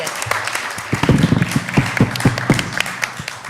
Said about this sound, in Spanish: le damos entonces un aplauso aquí a nuestra invitada